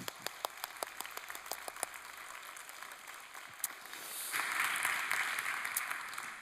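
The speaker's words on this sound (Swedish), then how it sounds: "En varm applåd." Audience at a lecture event applauds to welcome a speaker, starting with scattered distinct claps that swell into fuller, denser applause toward the end, heard at a moderate distance.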